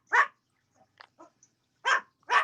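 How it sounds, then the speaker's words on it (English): A small dog barks outdoors at a distance, three sharp barks with a few fainter yips between them, alone with no talking. "Look at that little pup right there."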